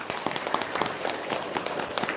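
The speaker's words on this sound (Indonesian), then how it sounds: "Tepuk tangan dong." An audience at a religious talk claps in a steady patter of many hands, moderately loud and close, keeping up an even rhythm for a couple of seconds.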